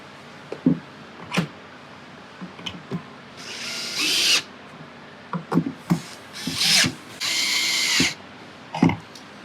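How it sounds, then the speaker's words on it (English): A power drill drives screws into a wooden furniture leg bracket in short, loud whirring bursts, with clicks and handling knocks of wood between runs, close and with no talk. "I'm going to tighten these screws down."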